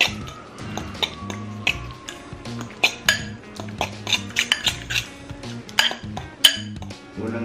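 A utensil clinks and taps against a dish while cream and orange pieces are mixed for a graham cake, producing irregular metallic pings and scrapes up close.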